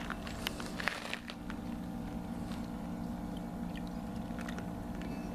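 A small water pump on a hot-water setup runs in a steady, continuous hum as it circulates water through a heat exchanger and hose, with faint crackles and trickles over the drone.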